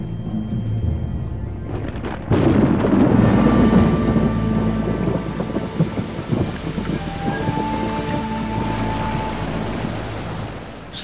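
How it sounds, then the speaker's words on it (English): A thunderstorm over a lake in Karelia during hot summer weather, with a loud thunderclap breaking in and rumbling on over steady, heavy rain; a faint tonal hum runs underneath. "A thunderstorm is brewing overhead."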